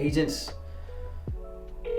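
A phone call to a real estate agent's office: a short burst of dialing tones, then a connection tone and the start of a ringback, heard close through the handset with a voice speaking briefly at the start.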